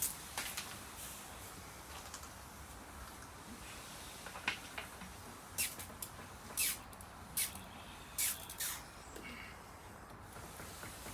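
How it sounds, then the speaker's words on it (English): Short bursts of a hand sprayer misting liquid seaweed onto a blackthorn tree hiss in a quiet space, several pumps spaced a second or so apart, close to the listener. "I'm going to spray the tree, the branches and the trunk and the sphagnum moss just with liquid seaweed"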